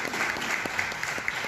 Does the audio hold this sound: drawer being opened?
no